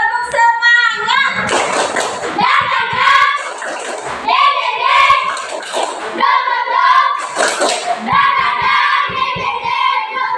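Schoolchildren in a classroom chant together in bursts of loud, rhythmic group voices over about ten seconds, doing a clapping cheer, with claps blended into the sung chanting.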